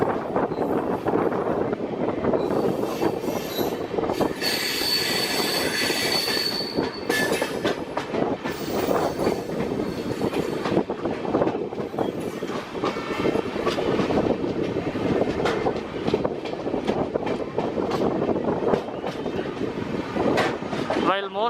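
A Janshatabdi Express train runs steadily on the line in Tamil Nadu as it approaches the Sulurpeta halt, with a continuous loud rumble of wheels and carriages, a brief stretch of high squealing, and wind buffeting throughout.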